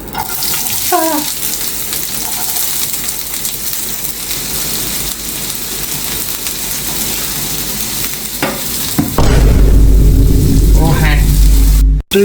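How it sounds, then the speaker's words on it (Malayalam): Sliced onions go into hot oil in a home kitchen, breaking into a loud, dense crackling sizzle after a quieter stretch of faint kitchen clatter and stirring. "അപ്പോൾ എണ്ണ ചൂടായി, ഉള്ളി ഇടാൻ പോകണം."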